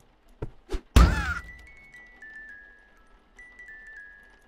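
In a horror video game, an evil baby hits itself: two soft knocks lead into one loud crashing thump, followed by a faint, sustained electronic tone.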